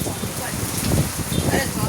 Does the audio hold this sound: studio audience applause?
no